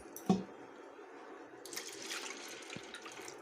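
Water drained off washed moong dal, a soft splash at first, then a quiet steady trickle and drip, close and faint.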